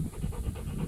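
An untrained hunting dog pants in quick, steady rhythmic breaths close by outdoors near a house during a dove hunt, filling the short moment without any talk.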